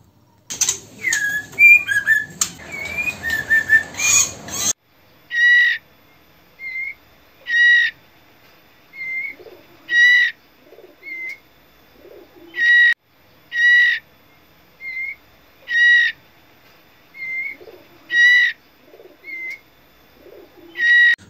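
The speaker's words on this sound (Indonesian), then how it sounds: "itu adalah suara trotol jantan" A male oriental magpie-robin sings a rich, varied burst of warbling notes, then settles into a slow series of short, clear whistled phrases repeated every second or so.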